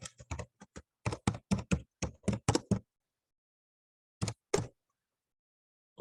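Keys clatter on a computer keyboard in short bursts of quick, close taps, a run of several strokes followed by a pause and two more taps, with no voices.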